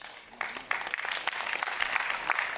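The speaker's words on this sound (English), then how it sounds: "a bigger, energetic round of applause as Sir walks up to the stage" Applause from a conference audience as the keynote speaker walks up to the stage, starting softly and then swelling into brisk, sustained clapping.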